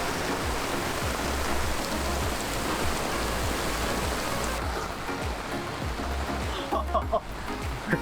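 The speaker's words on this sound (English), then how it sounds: "It's a rainstorm!" A heavy rainstorm drumming down on a sailboat, a dense, loud wash of rain that keeps going throughout, easing slightly near the end, with a few scattered knocks.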